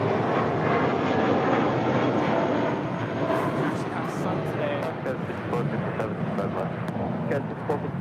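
A large airliner on its takeoff roll at LAX, a loud steady engine roar filling the whole stretch with broadband rumble, while faint radio-style voices speak intermittently over it.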